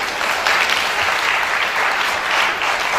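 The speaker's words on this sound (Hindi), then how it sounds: "तो एक जोरदार तालियां हमारी लिए।" Audience at a meditation festival breaks into loud, dense clapping that swells and holds steady, filling the hall for a few seconds.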